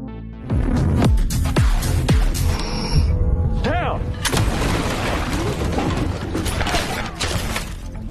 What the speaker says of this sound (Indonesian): Roman pun muncul, dan terlibat baku tembak dengan Peter